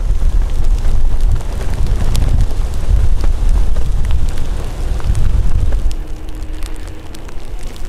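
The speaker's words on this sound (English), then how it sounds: "Riding about 20 miles an hour into this drizzle." Steady rush of drizzle and wind noise while riding a KingSong S16 electric unicycle at about 20 miles an hour, a loud continuous wash with no talking.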